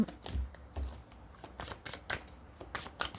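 Tarot cards being shuffled and drawn, a run of soft papery riffles and flicks with several sharper snaps, close up and quiet, with no talking.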